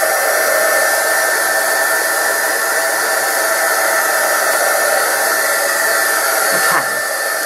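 A hair dryer blows steadily at close range, drying a freshly glued papercraft pop-up piece, its loud even whir holding from start to finish with a slight dip near the end.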